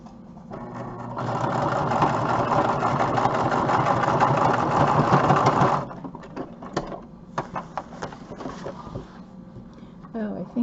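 A sewing machine stitches up the sides of a fabric pocket in a steady, fast mechanical whir lasting about five seconds, close and fairly loud, then stops and leaves scattered clicks and handling noises.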